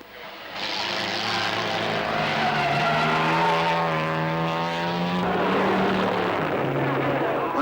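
Racing cars at the 1952 Le Mans 24 Hour Race, with Ferraris chasing a Jaguar, roar past loud and close, their engine notes climbing and falling in pitch as they go by, with a steady engine drone underneath.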